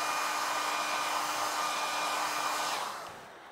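Hair dryer blowing steadily on a leather colour repair, a loud continuous close whoosh with a faint motor whine that drops away near the end.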